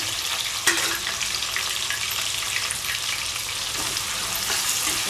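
Onion frying with whole spices and bay leaf in a pan for paneer and pea biryani, a steady close bright sizzle with faint stirring scrapes and one sharp clink near the start.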